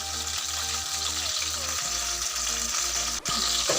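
Onions fry steadily in a pan, a continuous close sizzle with a faint regular pulsing underneath and no voices.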